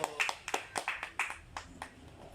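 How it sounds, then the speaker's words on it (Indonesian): Scattered, fairly faint hand clapping from an audience at a Madurese dangdut singing audition (Liga Dangdut), a handful of uneven claps spread over a couple of seconds. "Oh, tepuk tangannya dulu."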